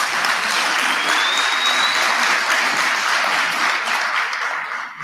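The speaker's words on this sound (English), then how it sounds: "Let's give him another round of applause." Audience at a national student council induction ceremony breaking into sustained, loud applause in a large venue, a thick continuous roar of clapping that holds steady and only eases slightly at the end.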